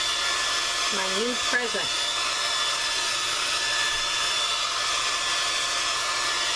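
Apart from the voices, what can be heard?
heat gun running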